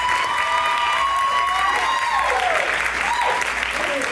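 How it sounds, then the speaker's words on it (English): Audience applause greeting a keynote speaker at a university symposium, sustained and full across the hall, with faint voices and cheering mixed in throughout. "Please give her a round of applause before I even introduce her."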